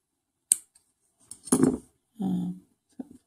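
Small scissors snip cotton wick for a vape RTA coil: a few short, close, crisp cuts separated by quiet pauses, with nothing else heard.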